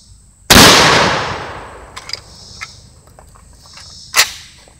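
An SDS Lynx 12 shotgun fires one loud, sharp blast at close range that rings out and decays, followed by a few faint clicks and a second, softer crack near the end.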